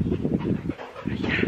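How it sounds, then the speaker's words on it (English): Excited dogs on a Welsh farm bark and whine close by in a quick, overlapping jumble that dips briefly and then picks back up. "Got some very excited doggies."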